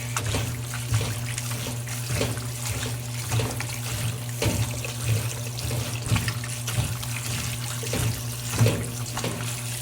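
Tap water running steadily into a sink while beef for corned beef is washed, a close continuous splashing stream with occasional louder surges and a low hum beneath.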